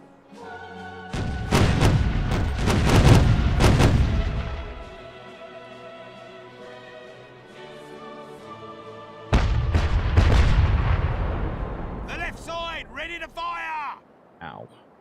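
Ship cannon fire in Caribbean Legend: Age of Pirates, heavy booming thuds in a loud cluster early on, with a second round of blasts later over a sustained game score.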